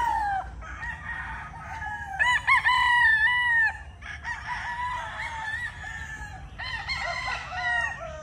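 White Kelso gamefowl pullets and other chickens crow repeatedly and cluck close by on a gamefowl farm. Several overlapping crows rise and fall over a low background hum.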